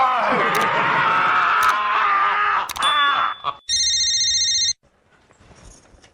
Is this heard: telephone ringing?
yes